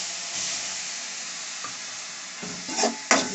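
Rava and coconut being mixed with milk make a soft wet stirring hiss, ending in a few louder scrapes and knocks of a spoon against the vessel.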